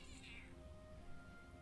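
A cat meows in an online fantasy raid game, a single clear, drawn-out meow near the start over steady low game background, with no speech.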